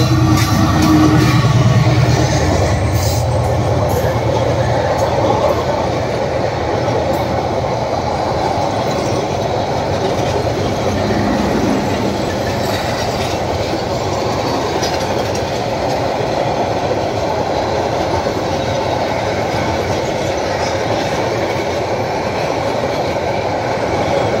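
A train passing slowly along a railway line near a station where work is going on, a loud continuous rumble with rhythmic wheel clatter and faint squeals lasting the whole stretch, close by.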